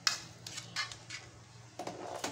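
Boiled green beans scooped out of a metal pot, several sharp clinks and scrapes of a utensil against the pot spaced irregularly, close and fairly quiet.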